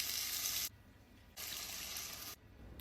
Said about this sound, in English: We're gonna start deglazing.